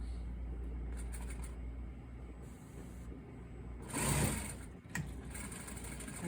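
A sewing machine stitches fabric for a French seam, a soft steady whirring run that swells briefly louder near the end before a short pause and restart, faint and close.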